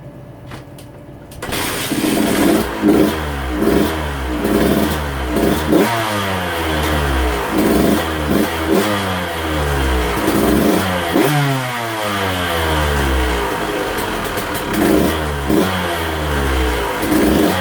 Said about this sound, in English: before I take her for a test ride, let's start her up in the shop